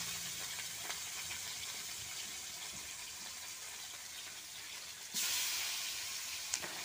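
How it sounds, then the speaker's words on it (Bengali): Rui fish fry in a little oil in a kadai with a constant crackling sizzle that steps up louder and brighter partway through. "ওই তেলের মধ্যে এখন আমি মাছ কটা ভেজে নিব।"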